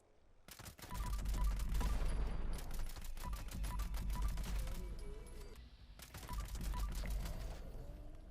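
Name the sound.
Tommy gun firing in the video game Fallout 76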